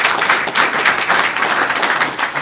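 Audience applause fills a seminar room as a Rotary district fall seminar wraps up, a steady, dense wash of many hands clapping close by with no voices over it.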